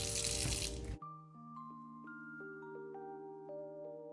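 Tap water pours loudly into a nearly full kitchen sink for about a second, then cuts off abruptly and is followed by soft, sustained chiming tones.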